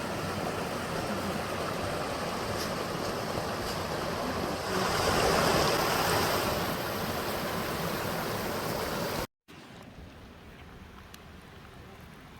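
Spring water flows along a nature trail in Madera Canyon, a steady, fairly loud rushing wash that swells briefly midway, then cuts out and returns quieter.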